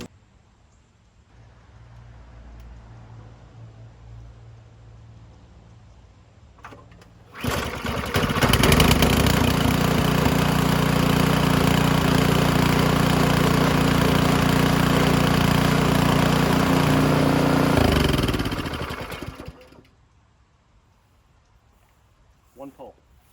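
A Powersmart 4400W inverter generator starts up and runs at a steady, loud, even drone for about twelve seconds before winding down, with quieter handling noises before and after.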